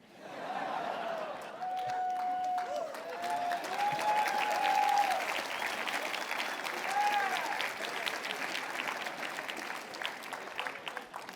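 Audience applause at a Young Leaders political speaking event, a dense steady clapping crowd that swells and holds through the whole stretch, with scattered laughter and faint voices mixed in beneath it.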